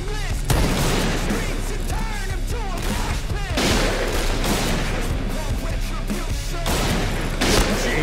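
Sniper rifle fire from the BORA-12 in the shooter game Point Blank, with sharp, loud shots and booming echoes repeating through the scene over dense game sound.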